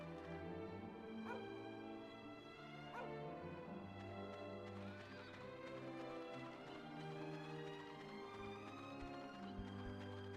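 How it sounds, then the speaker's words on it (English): A puppy in the video game Dragon Quest 8 gives a few short yips and barks over steady, loud in-game music. "Puppy."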